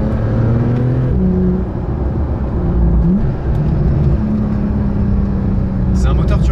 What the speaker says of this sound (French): On va écouter quand même ce que donne le moteur.